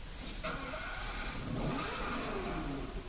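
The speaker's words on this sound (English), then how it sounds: "Listen very carefully to how the engine sounds." A sports car engine in the video game Need for Speed: Hot Pursuit 2010 revs up and down, the pitch rising and sweeping in smooth waves, moderately loud with no voices.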